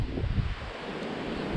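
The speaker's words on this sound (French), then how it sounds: "Il y a un vent de foufou" Strong winter wind blows outdoors at Trabuquet, a steady broadband roar buffeting close against the microphone without pause.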